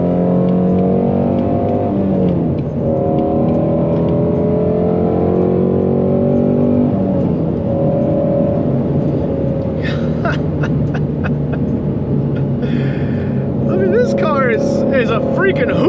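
A Ford Mustang Shelby GT350R Final Edition Heritage engine revs and pulls hard through rising, falling gear sweeps, loud and close from inside the car, with a voice talking over the later part.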